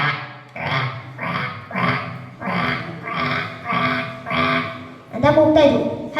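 A voice imitates ducks at a lake with a run of six evenly spaced, nasal quacking calls, close and loud, followed by a rougher, louder burst of vocal noise.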